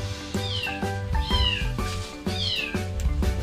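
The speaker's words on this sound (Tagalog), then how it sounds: "Pusa po namin yon." A cat meows four times in quick succession, close and fairly loud, each call rising then falling, heard outdoors beside someone cooking a pork and string bean stir fry.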